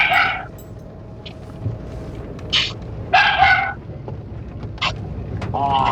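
A dog barks in a street setting, several separate short barks and yips spread irregularly over a steady low outdoor background, moderately near.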